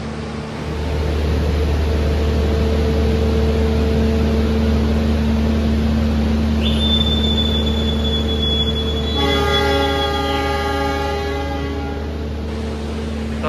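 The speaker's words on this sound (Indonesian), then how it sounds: "Kita kembali berangkat dari stasiun Bangil dan setelah ini bakal belok ke timur ya." Wijaya Kusuma economy train departing Bangil station, heard from on board: a steady loud rumble of wheels and carriage with a sustained high wheel squeal rising partway through, and a long horn tone near the end.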